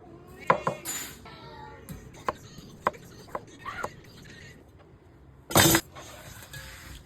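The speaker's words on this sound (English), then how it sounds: "let's go ahead and slice up some potatoes" A knife slicing potatoes on a cutting board in a home kitchen, a series of sharp, irregular chops and taps with small clatters, then a louder scraping burst near the end.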